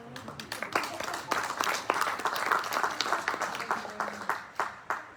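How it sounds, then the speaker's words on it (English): An audience claps at an inaugural cultural session, with a moderate crowd's distinct, uneven hand claps that rise and fall across the few seconds. "given me the applause that I wanted you to give. Do you mind doing it again?"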